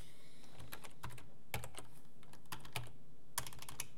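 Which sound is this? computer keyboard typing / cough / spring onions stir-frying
computer keyboard typing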